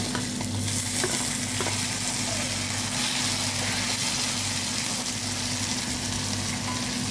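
Onions and curry leaves fry steadily in a pan with a continuous loud sizzle and occasional stirring scrapes, an even hiss running throughout with no talk.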